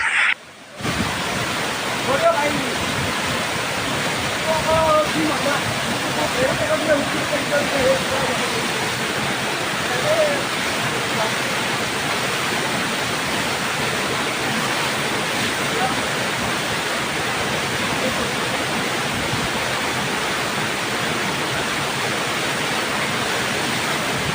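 Jatiapat waterfall at Kaliahata pours down a hillside in a loud, continuous broadband roar. The rush holds steady for the whole stretch, with faint voices now and then.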